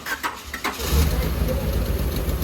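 A car engine that had sat unused for six years cranks over with a few quick starter whirs, then catches and settles into a loud, steady idle close by, with no talking.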